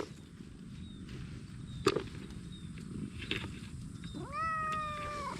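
A cat meows once near the end, a rising then falling cry, loud and close, over low background rumble and a sharp tap just before.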